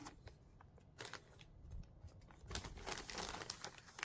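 A plastic zip bag holding a saucer and small pots of grape cuttings is pressed shut. Soft, close crinkling and rustling build toward the end, with no talking.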